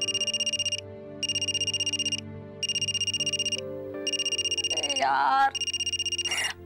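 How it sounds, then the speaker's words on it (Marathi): A mobile phone rings with an incoming call from mother, its tone repeating in regular bursts with short gaps, while someone briefly speaks over it. "आईचा पण फोन येतोय."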